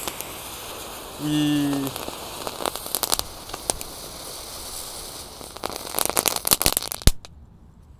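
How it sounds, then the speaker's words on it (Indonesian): A large spinning firecracker burns inside a big metal steamer pot: dense crackling and popping bursts build into rapid sputtering, loud and close, with a brief spoken exclamation and a short tonal hum early on. "Ini ada mercon Flaming EY atau gangsing pretek guys, tapi ini lebih besar."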